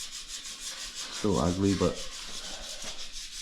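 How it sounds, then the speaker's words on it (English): A continuous rubbing, scraping sound of sanding the cut-off bottoms of 1923 T-bucket hot rod parts, steady and moderately close, with someone briefly speaking over it midway. "Do some more sanding."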